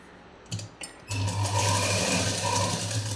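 A sewing machine runs a double stitch along a blouse lining: a couple of short clicks, then a close, steady whirring hum that carries to the end.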